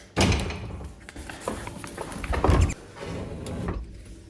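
A front door being tried and found locked: a sharp thump as the door is pulled, then rattling and clunking of the handle and latch, fairly close with some movement noise.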